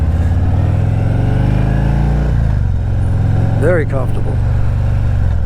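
Harley-Davidson Ultra Limited motorcycle idling through an aftermarket exhaust, a loud, deep, steady rumble close by with a slight rise and fall in pitch, while someone talks over it.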